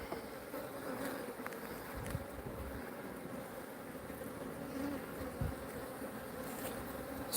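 Honeybees in an open hive box make a steady, close droning hum that holds at an even level throughout, with a few faint knocks of handling over it.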